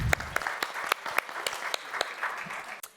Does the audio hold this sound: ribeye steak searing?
no